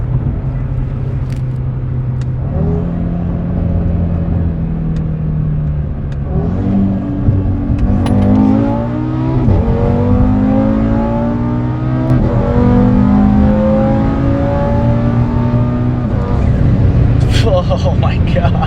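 Dual-clutch sports car with boost accelerating hard through gears, the engine note climbing steeply, dropping sharply at each upshift and pulling again, loud and continuous from inside the car.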